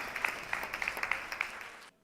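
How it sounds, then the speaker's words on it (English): A small audience claps at a live business awards event, its distinct, fairly sparse hand claps rising into applause and then cutting off abruptly. "Just give him a round of applause while he comes up."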